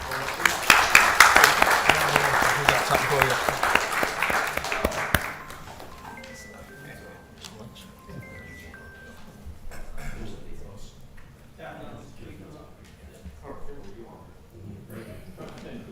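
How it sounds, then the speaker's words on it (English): An audience at a city council meeting applauds a citizen's heroism commendation, with loud, brisk clapping for about five seconds that stops abruptly. Speech and faint room sounds follow. "Let's give him a round of applause."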